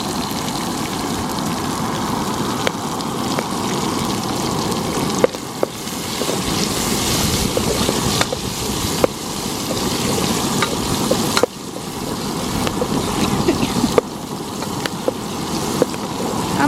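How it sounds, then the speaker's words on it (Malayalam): Chopped chillies frying in oil with turmeric for a tamarind chilli pickle, a steady loud crackling sizzle throughout with occasional sharp clicks of stirring, no voices. "മുളക് ഒന്ന് എണ്ണയിലിട്ടതിന് ശേഷം അത് നല്ല പോലെ ഒന്ന് മൂപ്പിച്ചെടുക്കാം"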